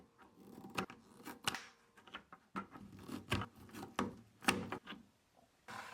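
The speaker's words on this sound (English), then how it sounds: "So take the first bucket and remove the handle." A handle is pried off a bucket close by, with quiet irregular clicks, snaps and scraping rubs spread over several seconds.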